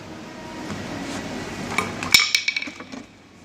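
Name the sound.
copper hammer being handled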